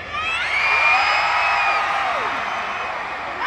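A large concert crowd in an arena screams together, a loud, sustained high-pitched roar of many voices with shrill individual shrieks, building quickly and holding before easing slightly.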